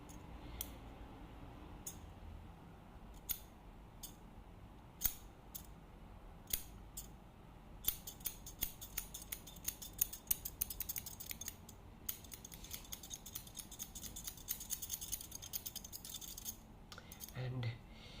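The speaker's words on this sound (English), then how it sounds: "a wonderful haircutting barber scissors" Crisp metallic snips of barber scissors cutting hair, first sparse and irregular, then quick repeated clipping bursts, close and quiet in a still room.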